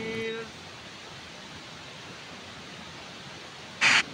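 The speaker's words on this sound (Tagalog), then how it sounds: "Kaya maingay yung pakinggan ng lagasa ng tubig." Loud, rushing mountain water pours downhill in a steady, dense roar that fills the whole stretch near the listener, with a brief tone at the start and a short sharp burst near the end.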